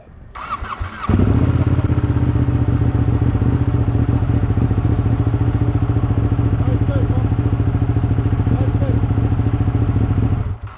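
A Ducati motorcycle engine starts with a thump around the one-second mark, then settles into a loud, steady idle that runs close by for roughly nine seconds before cutting off.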